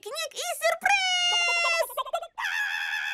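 A bright, cartoonish voice imitates a chicken, clucking and squawking in a few short bursts with tonal, sung-like calls.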